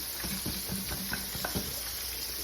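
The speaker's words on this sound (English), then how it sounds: "I shake mine in another bowl." Ribs tossed in a bowl of coating give soft rhythmic thumps and rustles, several quick shakes in a row, heard over a constant loud hiss of frying nearby.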